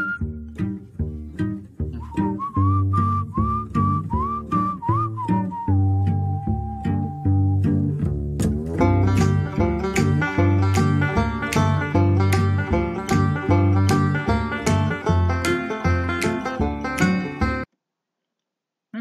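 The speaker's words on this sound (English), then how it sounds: "I like the banjo. Sounds like they got a washboard in there too." Upbeat string-band music plays with bright plucked banjo and a scratchy washboard rhythm, a melody line rising before the full band kicks in louder.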